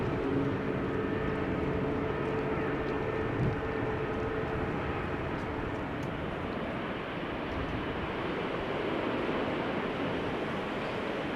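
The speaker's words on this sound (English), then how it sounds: "KLM flight 1645 to Genoa" KLM passenger jet at Amsterdam Schiphol Airport, a broad steady roar of engines at middle distance mixed with wind-like rushing noise, continuous throughout with no talk.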